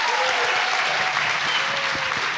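An audience at a live news panel event claps steadily and loudly throughout, a dense wash of applause with no voice rising above it.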